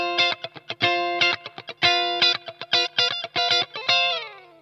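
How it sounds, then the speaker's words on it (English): Electric guitar played through a J. Rockett Airchild 660 compressor pedal, a quick run of bright, clipped picked notes and short chord stabs, evenly levelled and played alone. "We have a new compressor to play with, the Airchild 660 from J. Rockett, and it sounds like this."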